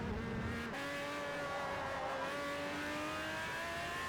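An Alfa Romeo MiTo engine in the racing game Forza Motorsport 4 hums steadily at fairly constant revs with a brief shift near the start, quiet and alone without talk.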